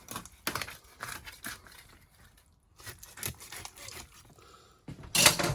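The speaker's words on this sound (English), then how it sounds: "so to cut through the backbone, instead of just cutting the backbone out" A knife cutting down through a raw chicken's backbone, a series of close, sharp crunching chops and cracks in uneven bursts separated by short pauses, ending with a louder crunch.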